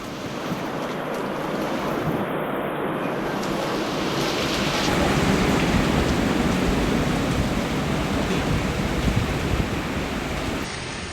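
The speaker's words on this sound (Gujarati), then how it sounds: "વલસાડના અલગ અલગ વિસ્તારોમાં ભારે પવન સાથે વરસાદ ખાબક્યો છે" Heavy rain driven by strong wind in Valsad, Gujarat, makes a continuous broadband roar that swells slightly midway and keeps up throughout, with no clear voices.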